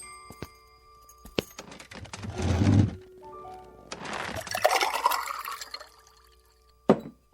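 Water poured in a radio drama scene: a splashing pour swells and fades, then a longer, brighter trickling fill, with small clinks before it and a sharp knock at the end.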